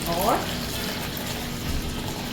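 Hot oil bubbling in a pan, ready for Korean fried chicken wings, a steady close sizzle with a brief splashy flare at the start.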